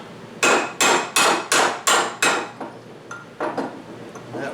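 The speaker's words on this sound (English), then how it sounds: "take a hammer and a chisel and you're going to break these pieces out of here" A hammer strikes a chisel against a plastic GM heater hose quick coupler in a quick run of five sharp metallic blows, followed by a few softer, slower taps, close and alone.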